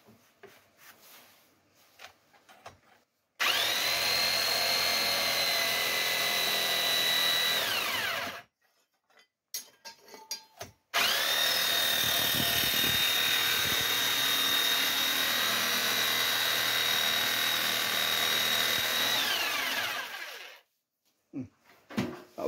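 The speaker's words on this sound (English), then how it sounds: "they were selling saber saws for 30 quid" Sabre saw cutting through a metal exhaust manifold for a Ford Escort MK1 restoration, sounding as two long, loud buzzing bursts with a high whine, each stopping abruptly, separated by a short pause and quieter handling noises.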